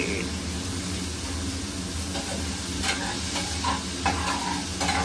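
Peas and masala stirred in a pan at home, a steady close sizzle with scattered scraping strokes of a spoon running throughout, alone without talk.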